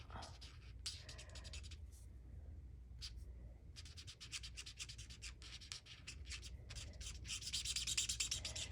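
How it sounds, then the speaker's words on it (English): A pale pink marker colours in a paper bow on a Valentine's card, a quiet close scratchy rubbing in short bursts and longer continuous strokes with brief pauses. "I'm just going to color in the bow because we're going to cut the bow out."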